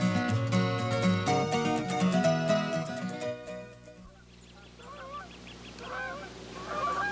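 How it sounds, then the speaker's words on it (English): Music plays for a few seconds, then fades as several Canada geese honk repeatedly in a loose cluster, moderately close and clear, in Michigan. "Canada geese are magnificent birds,"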